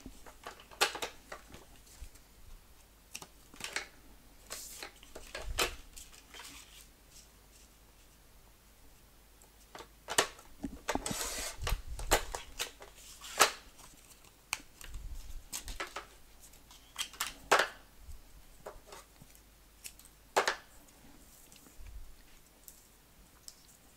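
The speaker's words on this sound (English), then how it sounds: "So just cut this into a smaller strip." Scissors trim a strip of card for papercraft, heard as soft scattered snips and clicks with handling rustle, quiet and close, no talking.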